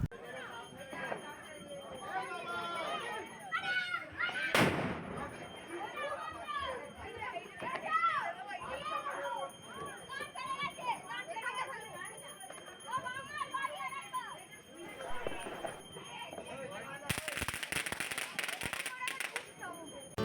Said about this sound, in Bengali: আমরা এই সবাই মিলে বসেছি বাজি ফাটাতে